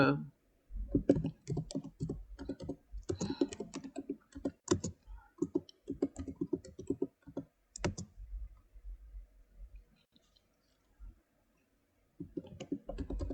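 Rapid clicking of a computer keyboard being typed on, dense bursts of keystrokes for several seconds, then a pause before typing resumes, with some speech mixed in.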